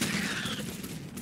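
Rapid gunfire rattles continuously in ARK Survival Evolved: Extinction, a dense, loud burst of shots with no pauses and no speech.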